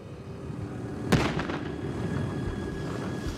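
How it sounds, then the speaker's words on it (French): A dynamite charge on a ski slope goes off once as a single distant, muffled boom set off to trigger an avalanche, followed by a low rumbling tail over steady outdoor wind noise. "L'urgence, c'est de se protéger du souffle provoqué par l'explosion."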